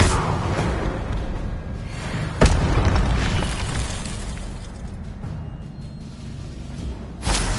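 In the game Hogwarts Legacy, a Confringo blasting spell sets off a loud explosive burst with a sharp crack, set over a dense, rumbling wash of game noise that runs throughout.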